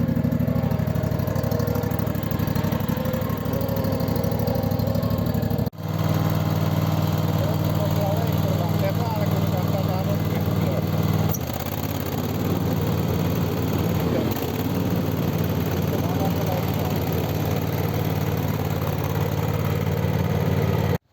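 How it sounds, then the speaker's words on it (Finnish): A Husqvarna Z448 zero-turn riding mower with a Kawasaki V-twin engine runs steadily and loudly nearby, a constant droning hum with a slight shift in tone partway through, while someone talks over it. "Tosiaan tässä on Kawasaki V2-moottori, hyvin tehoa."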